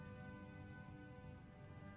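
Steady rain falling in the video game Skyrim, a continuous hiss of drops spread evenly across the whole stretch with no voices over it.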